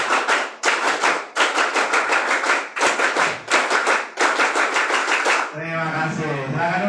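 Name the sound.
Scout-style rhythmic clapping done twice (tepuk pramuka)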